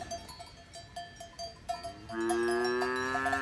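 Cows wearing cowbells on an alpine pasture in the Swiss Alps: scattered bell clanks ring out at first, then a cluster of bells joins in a sustained, loud, overlapping ringing.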